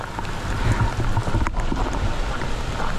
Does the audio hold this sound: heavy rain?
yes